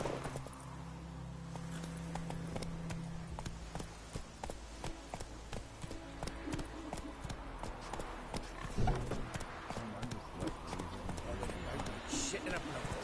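Witcher 3 horse Roach galloping at a steady clip, its rapid hoofbeats drumming on under continuous game music and background noise, with someone speaking over parts of the run.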